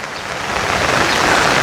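Steady rain pours down outdoors at a house construction site in Thailand, a dense, continuous hiss that holds even and loud throughout with no talking.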